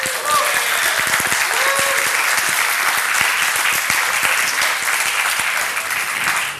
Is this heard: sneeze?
no